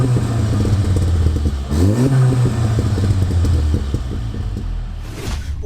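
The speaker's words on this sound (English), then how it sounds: "you probably just heard the revving" A stage 2 tuned 402 bhp Seat Leon Cupra engine revs up close, rising sharply in pitch before settling back into a loud, rumbling idle.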